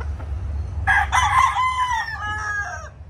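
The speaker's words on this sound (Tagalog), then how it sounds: "Ito po yung Raptor Sweater broodstag natin" A Raptor Sweater broodstag gamefowl rooster from an old farm bloodline gives a single loud, close crow lasting about two seconds, over a low steady background rumble.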